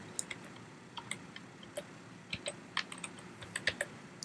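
Someone types a UID number on a computer keyboard. The keystrokes come as sparse, crisp, close clicks at an uneven pace, with no voices.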